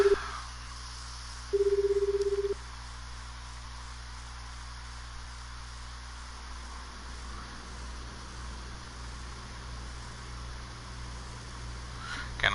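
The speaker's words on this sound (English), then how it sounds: "Kano immediately pulled out a cell phone and called Tatino's number." Cell phone dialing tone in the video game 428 Shibuya Scramble, a single clear electronic beep lasting about a second over a steady low background hum, then a long quiet stretch; no talk.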